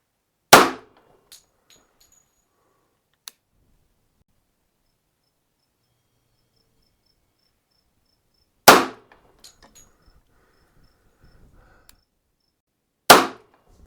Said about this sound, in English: 1 round fired from a distance of 7 yards